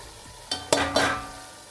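Chopped capsicum tipped into a pan of ginger-garlic paste for pav bhaji, three quick clattering drops and scrapes followed by a soft fading sizzle, close and otherwise quiet.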